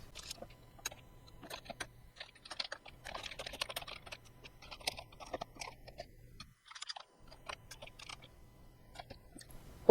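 Computer keyboard typing as R code is entered, quiet, close irregular bursts of key clicks with short pauses between runs.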